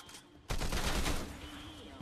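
A burst of muffled gunfire rattles fairly distantly for over a second, with a softer shot or two following, under low background noise.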